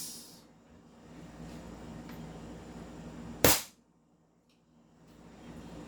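A gas-powered airsoft pistol, loaded with 0.20 gram BBs and charged with 12 kg gas, fires a single sharp, loud crack amid a quiet background hiss, which then falls nearly silent.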